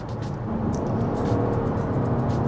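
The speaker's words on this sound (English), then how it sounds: "Accelerating onto the freeway." A 2023 Toyota Kluger Grande hybrid AWD with a CVT accelerates onto a freeway, heard from the cabin as a steady, moderate engine and road drone without any gear changes.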